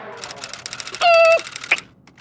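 A person voices an imitation of a typewriter, a quick clattering patter of mouth clicks followed by a sustained tonal ding-like hum and a final sharp note, close and fairly loud in a room.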